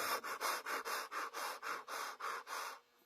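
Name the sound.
hit-and-miss engine breathing air through held-open exhaust valve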